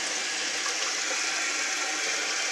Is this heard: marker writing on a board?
no